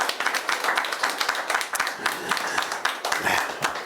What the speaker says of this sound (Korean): 우리 환영하는 박수 한 번만 더 보냅시다